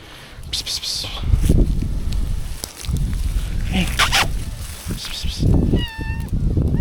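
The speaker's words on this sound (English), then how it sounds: "Hey, kitty." A cat meows a few times close by, with rustling and a person talking softly around it.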